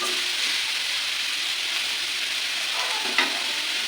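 Food frying in a pan on a home kitchen stove gives a steady, close sizzle and hiss while it is stirred, with a brief scrape of the utensil near the end.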